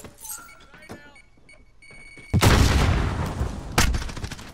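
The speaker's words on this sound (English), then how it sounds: "there's no real way to avoid those rockets either" In a Call of Duty Modern Warfare match, a loud rocket explosion bursts in and rumbles on for a couple of seconds, with a second sharp blast following after quieter electronic game sounds.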